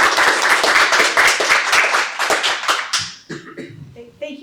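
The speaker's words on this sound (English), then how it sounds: "let's give her a round of applause." An audience at a lecture applauds with dense, rapid clapping that fades out after about three seconds, followed by a few scattered claps and a voice.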